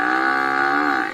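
A buffalo gives a single loud, close moo, a sustained tonal bellow lasting about a second that drops off at the end.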